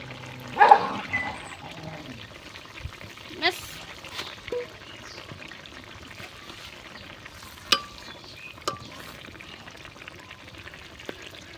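Fish pieces are laid one by one into a hot pan and fry with a soft, steady sizzle, broken by occasional clatters and bumps, while a voice talks over the cooking.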